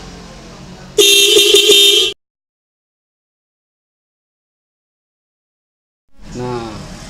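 A double horn fitted to a 2018 Honda Vario motorcycle sounds one loud, bright blast of about a second, followed by silence, then a voice begins talking.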